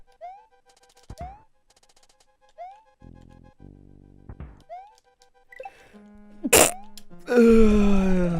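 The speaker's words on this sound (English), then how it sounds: "I have to sneeze." After scattered boings and cartoonish effects, a sudden loud sneeze bursts out near the end, followed by a noisy rush of sound.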